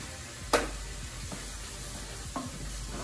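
Onions, garlic and herbs sizzle softly in a pan, a low steady hiss with one sharp clatter near the start and a faint scrape later.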